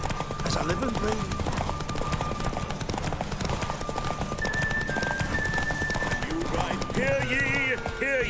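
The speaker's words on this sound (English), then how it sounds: "Whoa there, Roach." Horse hooves clip-clop in a steady gallop in The Witcher 3, with a brief whinny, under game music and character speech throughout.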